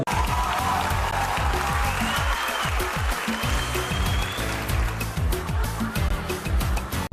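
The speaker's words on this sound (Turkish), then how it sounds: "Seyirciden kendiliğinden alkışlar geliyor." Spectators applaud at the final of a Turkish wrestling tournament, a dense, steady wash of crowd clapping that holds at full strength for about seven seconds, with deeper bursts of crowd noise mixed in.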